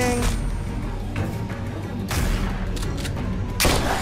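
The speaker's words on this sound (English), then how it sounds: "Okay, I'm shooting, I'm shooting." Repeated gunfire from a shotgun and other guns while clearing out enemies at a gate in The Walking Dead: A New Frontier video game, loud broadband blasts in bursts over a busy game soundscape, with faint talk.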